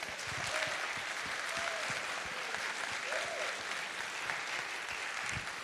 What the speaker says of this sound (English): Let's just give a round of applause for all the nominees.